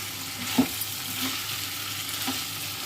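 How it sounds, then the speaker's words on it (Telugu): A medium onion frying in a pan for chicken fry while being stirred with a utensil; steady close sizzling with a few light scraping clinks, no talking. "అడుగు పట్టకన్నా జాగ్రత్తగా మనం కలుపుకోవాలి, లేకపోతే మాడిపోద్ది."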